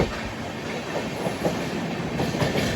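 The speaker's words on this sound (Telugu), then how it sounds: "Kalyan shed locomotive. ఇప్పుడే మొదలైంది" A train hauled by a WAP-7 electric locomotive rumbles steadily along the rails with a noisy, continuous roar and faint rhythmic clatter of wheels, heard from close range.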